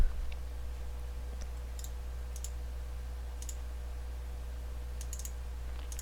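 A computer mouse clicks a few times, crisp and faint, with single and paired clicks spread out over a steady low hum and no talk.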